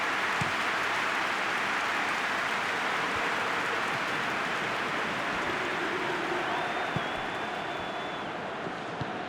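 Stadium crowd applause in the PES 2021 football game, a dense steady roar of clapping that fills the whole clip without a break.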